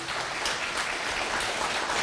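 An audience at a Women's Day village celebration applauds, a dense, even wash of many hands clapping steadily at moderate volume throughout.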